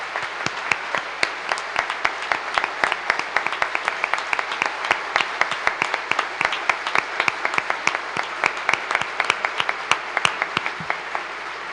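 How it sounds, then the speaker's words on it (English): Audience applause at the 2020 Michigan State of the State address, a sustained burst of dense clapping from a large crowd that fills the hall steadily for several seconds without speech. "Please join me in applauding our Canadian neighbors"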